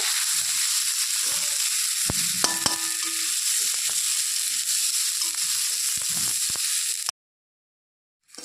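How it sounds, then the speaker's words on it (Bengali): Rice with potatoes sizzles and crackles steadily in a hot pan, a continuous bright frying hiss with a few clinks of stirring, then cuts to silence near the end. "এই চালটা দিয়ে মুড়ি ঘন্ট দারুণ লাগে খেতে। এটাকে একটু ভেজে নেব।"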